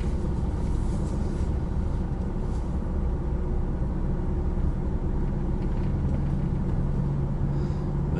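A construction vehicle pulls away in the morning, its low engine rumble steady and fairly loud with a faint higher drone running through it, no voices.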